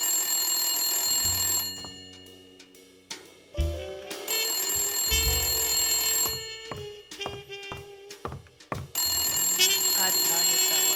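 A telephone rings in the video game Blacksad: Under the Skin, several repeated ring bursts amid game music and sound effects, loud and close.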